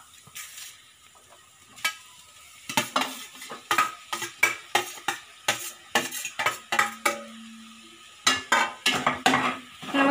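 Chopped jackfruit stirred in a hot pan: a spoon clacks and scrapes against the pan in quick, irregular strokes over a soft sizzle, close and loud, with a quiet gap before the stirring gets going.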